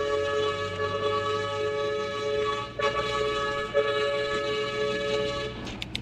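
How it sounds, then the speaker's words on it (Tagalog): A vehicle horn blares on a road during an uphill climb in Barangay Kalumpit, Calaca City, Batangas, a sustained loud tonal blast holding for several seconds with brief dips. "Sagad yung busina ni boss."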